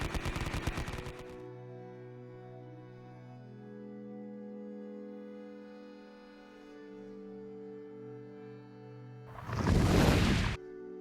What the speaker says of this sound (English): it's going to fire its medium machine guns and its flamethrower at them